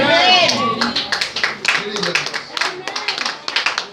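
Church congregation clapping during a sermon, a run of sharp, irregular hand claps close by that thicken into quick bursts, with a voice speaking over the start.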